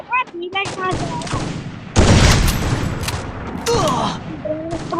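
Rapid gunfire from the video game Free Fire in a sniper match, bursts of shots and sharp bangs overlapping throughout, with a louder blast near the two-second mark and players talking over the shooting.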